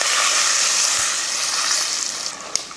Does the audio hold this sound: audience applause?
no